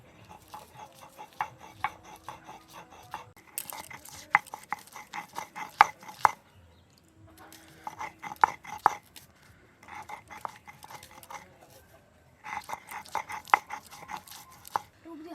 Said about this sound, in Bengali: আদা রসুনটাকে একসাথে বেটে নেব